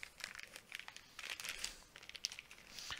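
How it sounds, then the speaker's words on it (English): A plastic bag wrapping a comic book mystery box crinkles and rustles close up in irregular bursts of crackling, with no voices. "it's all wrapped in a plastic bag"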